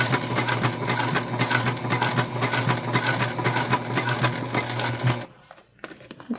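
A sewing machine runs steadily at speed, top stitching a bag panel through heavy interfacing, a loud continuous mechanical whir that stops abruptly near the end, leaving a few faint clicks.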